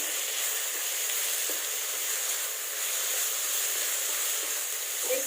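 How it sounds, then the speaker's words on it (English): Ash gourd sizzles steadily in a hot pan while being stirred, a continuous close frying hiss with a faint scrape or two, and no one speaks. "Let's stir it well."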